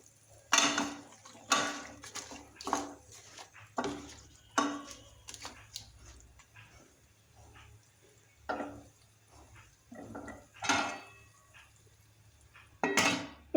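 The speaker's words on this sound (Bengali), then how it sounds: "এখন সিম আর আলু দিয়ে নেড়ে চেড়ে দিচ্ছি" Metal spoon knocking and scraping against a cooking pot while beans and potatoes are stirred into spices for a catla fish curry, in irregular clinks and scrapes with short pauses between, fairly close and moderately loud.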